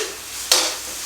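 Ginger garlic paste sautéing in hot oil in a pan for a coconut chickpea curry, giving a steady soft sizzle with a brief louder burst of frying partway through.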